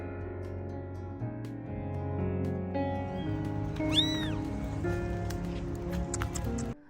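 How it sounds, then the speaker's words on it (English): A small kitten stuck in thorny bushes gives high, thin meows near the middle of the clip, fairly faint against a steady low background hum. "our attention diverted towards the faint meows coming from a nearby place"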